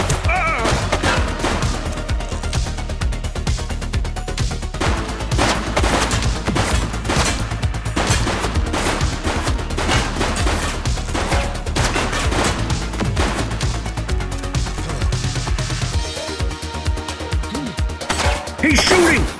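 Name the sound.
gunfire in The Precinct video game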